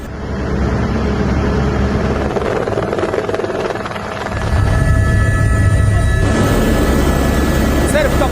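A helicopter flies over a flood-devastated village in Nepal, giving a loud, continuous rotor and engine drone up close. The drone deepens and thickens partway through, then holds steady to the end.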